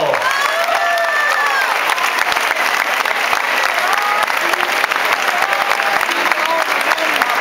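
Concert audience applauding at a tribute club show at Apolo Barcelona, a loud sustained wash of clapping from a large crowd with a few cheers and voices mixed in.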